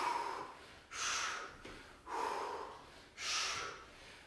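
Forceful breaths blown out during a squat workout, four loud, airy exhalations in a steady rhythm about a second apart, close and alone with no talk.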